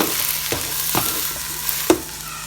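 Smoky pork and vegetables sizzle steadily in a frying pan while a utensil stirs them in several sharp scraping strokes, close up and without voices.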